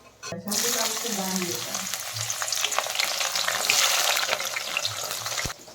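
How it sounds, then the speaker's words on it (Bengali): Carrots frying in a pan of oil on a village home stove, a continuous loud sizzle with occasional stirring scrapes and clatters, no speech over it. "তো এদিকে ভাতটা হচ্ছে আর এদিকে আমি সবজিটা ভেজে নিচ্ছি"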